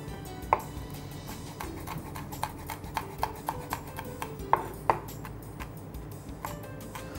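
Red chilli is chopped on a board with a knife, giving a series of light, irregular taps and knocks, close and fairly quiet, with a few sharper clicks standing out.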